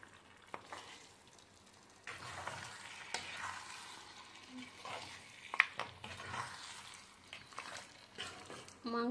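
Beef fries in a pan while being stirred, a quiet sizzle with intermittent scraping and clinks of the spoon against the pan, fairly faint.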